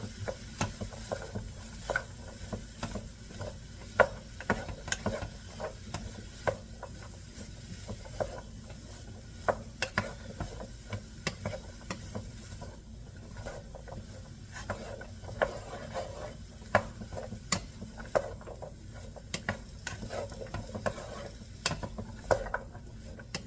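Mixed vegetables tossed in a pan during meal prep, a quiet continuous sizzle broken by scattered scrapes and clicks of stirring, no talking.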